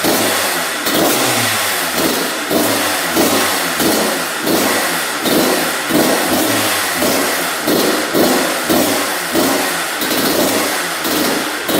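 A Kawasaki dirt bike engine idles loud and close, with a steady, fast, even chugging pulse that holds for several seconds without revving.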